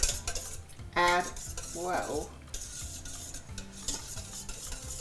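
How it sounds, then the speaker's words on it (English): Eggs are whisked in a bowl for a spaghetti frittata: quick, close metallic clinking strokes in uneven bursts, with a single short spoken word. "Debbie, if you can whisk that"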